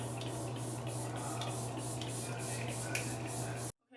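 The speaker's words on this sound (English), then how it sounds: "I like to cover my eyes because of my lashes and just spray it all around that." A steady hiss of fine makeup setting spray goes on for several seconds, close and fairly loud, with faint pulsing, then cuts off abruptly.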